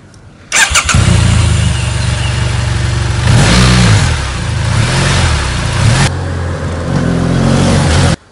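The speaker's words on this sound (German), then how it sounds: "Hören wir uns einmal den Motor an," A BMW F 700 GS motorcycle engine cranks and starts, then idles with a steady rumble and is revved twice, close and loud, with no voices.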